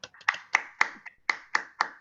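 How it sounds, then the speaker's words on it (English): A few hands clapping in a small class or training room, sharp separate claps in an even rhythm, about eight in two seconds, close and clear with no talk. "Give him a big round of applause"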